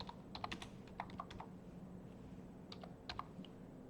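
Faint computer keyboard typing as data is entered into a library book acquisition module, with two bursts of crisp key clicks separated by a short pause and no talk.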